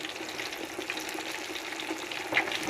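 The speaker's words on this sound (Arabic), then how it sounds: "طبعا انت هتقلبه في الزيت، الجنب من تحت يستوي" Flour-dusted tilapia frying in oil in a home kitchen pan, a steady close crackling sizzle that goes on without a break, with a few brighter pops and no talking.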